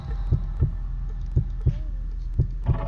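A steady heartbeat plays in the horror game Doors, with about six deep, evenly spaced thumps over a low hum. The beats are close and clear, with no talk over them.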